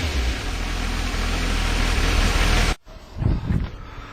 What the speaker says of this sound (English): this is with the original exhaust on at the moment, and as you can hear it